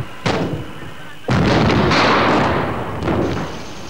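A sharp blast is followed by a larger, roaring explosion of a burning Buffel armoured vehicle that rumbles for about two seconds, then another burst as the noise fades.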